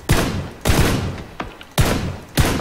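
Gunfire in PUBG: four loud, separate shots crack at a slow uneven rhythm, each with a short echoing tail, close by and with no voices.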